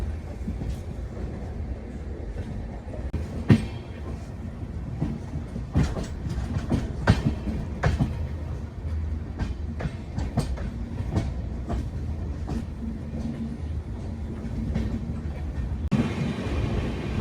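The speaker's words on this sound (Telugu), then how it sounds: "ఇప్పుడు ఏదో ట్రైన్ వచ్చినట్టు ఉంది." A superfast express train with LHB coaches runs steadily along the rails, its rhythmic clickety-clack loud and close from inside the carriage, with sharper wheel clanks and joint knocks throughout and no voices.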